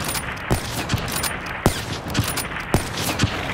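Sniper rifle fire in a 1v1 video game match: a series of sharp, loud shots cracks out at irregular intervals over a steady background of game noise, with no talking.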